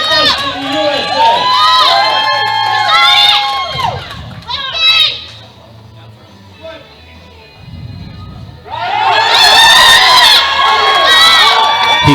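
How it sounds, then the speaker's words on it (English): A loud crowd of spectators, children among them, cheers and whoops at a youth powerlifting nationals after an American record lift, the roar dropping briefly before surging back at full strength. "Come on, give it up applause for another American record."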